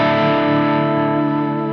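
PRS SE Custom 24 semi-hollow electric guitar on the middle pickup through heavily saturated distortion, a sustained thick chord ringing steadily and loud for the whole stretch with no voices.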